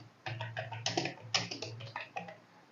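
Keys on a computer keyboard clack in a quick, uneven burst as a sentence is typed, close and fairly quiet, with no voices.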